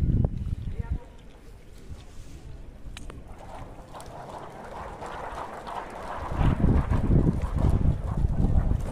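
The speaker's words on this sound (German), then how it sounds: "Windig ist es auch, wie man sieht." Gusty outdoor wind buffets the microphone on Johannisplatz in Schwäbisch Gmünd, a low rumbling roar throughout that swells into heavier, louder gusts during the last few seconds.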